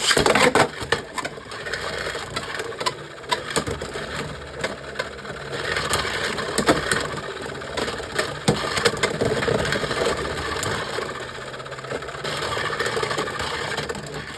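Two Beyblade X tops, Viper Tail Black and Drawn Sword, spin and grind against each other in a stadium, producing a continuous whirring rattle broken by sharp clacking collisions, close and loud.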